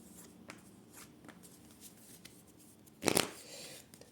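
Kipper deck cards riffle in one short, crisp burst of shuffling after a few faint handling taps, close and fairly quiet, with no voices.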